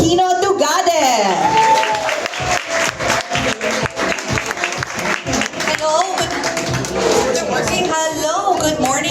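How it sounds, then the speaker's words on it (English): An audience at the Philippine Book Festival press launch applauds, dense clapping mixed with crowd noise and music, loud and continuous throughout, easing off slightly midway before swelling again. "Please clap your hands for none other than Ms. Charisse Aquino Tugade."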